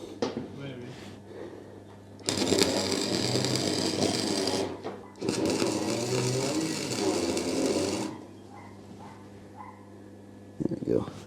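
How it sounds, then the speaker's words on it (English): An arc welder tack welding a bonnet onto an old Ford, heard as two sustained buzzing, crackling bursts of several seconds each, up close and loud, with a steady electrical hum underneath. "I'm only trying to tack it on so we can get to the better welder"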